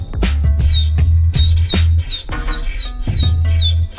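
A violin imitates a chick's peeping, playing several quick, high chirps in irregular bursts over a steady low accompaniment with soft percussive taps.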